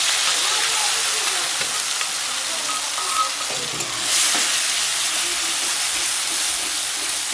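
Ground mustard and green chili paste sizzles and fries in hot oil for a large hilsa fish curry, a steady, dense frying hiss with occasional stirring, close and continuous without talk.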